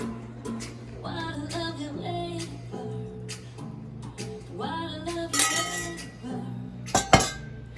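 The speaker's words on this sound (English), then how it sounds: "Mix in the egg so it gets through and spreads through the pan" Egg being stirred into a quiche mixture with bacon in a pan, heard as repeated clinks and scrapes of a utensil against the pan, close and fairly steady, with a sharper clatter near the end.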